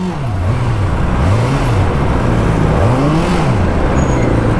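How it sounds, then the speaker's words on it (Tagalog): A Bristol Kove 450R sports motorcycle ridden at night, its engine droning steadily and loud with rising and falling pitch as the revs climb and drop through the gears. "Night ride with sports bike."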